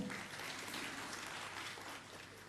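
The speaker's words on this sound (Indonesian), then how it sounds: "Tepuk tangan untuk beliau semua" Faint, steady applause from an audience at a Bali broadcasting awards ceremony, a continuous wash of clapping that eases slightly toward the end.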